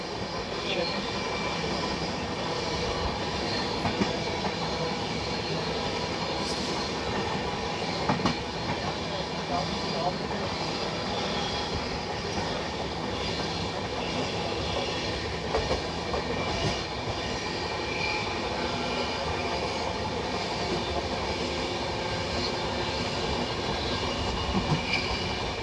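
Heard from onboard, an Intercity Express train runs out of Pune with a continuous broadband roar and rail clatter as it passes the Konark Express, steady and loud throughout, with faint voices in the background.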